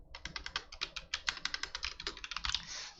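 Typing on a computer keyboard while coding, a quick, steady run of close, crisp key clicks that goes on for three seconds with no voice.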